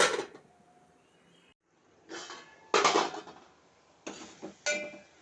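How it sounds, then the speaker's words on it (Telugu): A lid set onto a cooking pot of mutton curry, several distinct metallic clanks and rattles in a quiet kitchen, separated by short pauses. "కొంచెం మూత పెట్టేస్తాను ఒక ఐదు నిమిషాలు మూత పెట్టేస్తాను"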